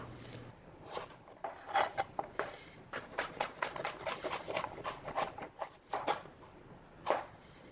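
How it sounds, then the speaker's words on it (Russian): A knife finely chops cucumber on a cutting board, a run of sharp, irregular taps close by, with a few short pauses between bursts. "Мелко нарезать немного зеленой части огурца."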